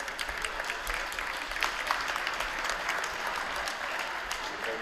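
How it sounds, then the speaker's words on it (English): At a girls' high school volleyball championship final, the crowd applauds both teams with steady, dense clapping and a few cheers. It carries on at an even, moderately loud level throughout, with a hum underneath. "Both teams round of applause."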